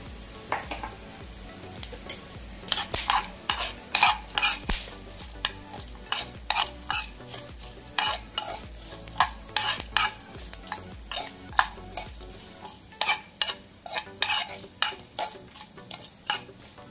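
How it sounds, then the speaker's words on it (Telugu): Coriander seeds, pepper, cumin and marathi moggu fry in two spoons of oil for Chettinad chicken curry, a low steady sizzle punctuated by a long series of rhythmic scraping stirs and metallic spoon clinks. "2 స్పూన్లు ఆయిల్ వేసుకుని ధనియాలు, మిరియాలు, జీలకర్ర, మరాఠీ మొక్క వేసుకొని మనం ఫ్రై చేసుకుందాం"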